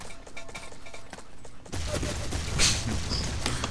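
Burst of gunfire in a Minecraft-style shooter game, erupting suddenly partway through and rattling on densely with loud crackling shots, with a voice faintly underneath.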